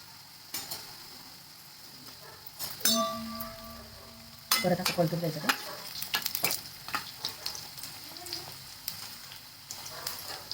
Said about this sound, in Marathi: आता आपण हे टाकून घेऊया त्याच्यामध्ये थोडं थोडं थोडं मंदाचेवरच तळायचं आहे